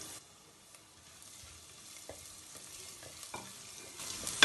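Garlic with cumin and fennel seeds frying and being stirred in a pan, a faint, steady sizzle with light scraping stirs and a few small knocks, quiet and close, no voices.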